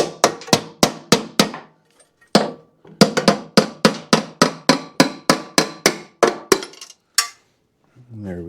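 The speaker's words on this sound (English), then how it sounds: "Just gonna grab a hammer and lightly tap." A hammer lightly taps on snowblower carburetor bolts in quick, sharp metallic strikes, close and loud. The taps come in rapid runs of a dozen or more, with short pauses between them.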